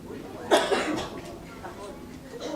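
A few sharp coughs burst out at close range in a church setting, followed by faint breathy sounds and quiet room tone.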